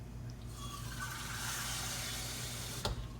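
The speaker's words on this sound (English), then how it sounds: "And then I'm gonna add a cup of water." A cup of water pouring into a casserole pot of pasta and corn, a steady continuous splashing wash that runs close and fairly loud for about three seconds, ending in a brief sharp knock, with no talk over it.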